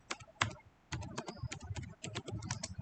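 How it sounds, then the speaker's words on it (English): Quick, light keystrokes patter on a computer keyboard as a phone number is entered, close and fairly quiet, in short irregular clusters with no talking. "I'll just type in my number."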